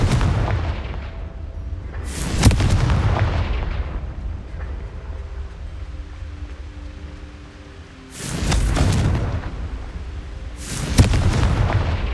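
Confringo fire-spell blasts in Hogwarts Legacy: three sharp, loud explosions, each followed by a rumbling decay, spaced several seconds apart over a steady game background with no talking.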